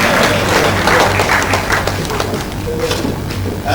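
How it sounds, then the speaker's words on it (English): A large audience at a formal access-to-justice event in Nigeria breaks into loud, sustained applause: a dense wash of many hands clapping at once, steady throughout with faint crowd noise mixed in. "Please, a big round of applause for"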